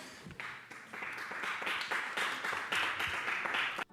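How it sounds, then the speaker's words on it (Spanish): Lukewarm applause from a modest crowd, a steady patter of clapping of moderate intensity that holds for several seconds and then stops. "Unos aplausos un poco tibios."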